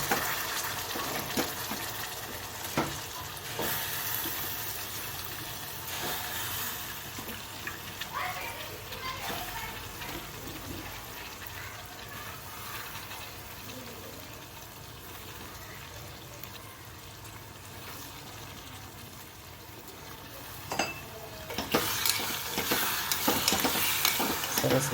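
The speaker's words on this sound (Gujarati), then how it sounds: "હવે જે ડુંગળી બટાકા સુધારા હતા તે નાખી દઈએ આપણે" Chopped onions and potatoes go into a pan of hot oil and are stirred, giving a continuous soft sizzle with occasional scrapes and a splashy burst near the end, with someone talking intermittently.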